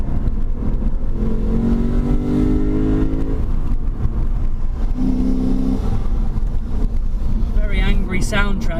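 A 2017 Lexus RC F drives on the road with its engine and exhaust droning steadily, with a rising and falling tonal note, wind rush over the microphone and someone speaking over it.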